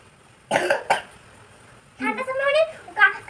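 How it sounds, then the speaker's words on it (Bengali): A person coughs twice in quick, harsh bursts close by, then a voice starts talking after a short pause. "ঠান্ডার সময় অনেক কাশি হয়েছে আমার।"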